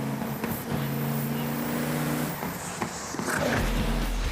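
A race car at Laguna Seca revs through its gears in the distance, the engine note rising in a strained whine, breaking at each shift and climbing again, faint under outdoor wind noise.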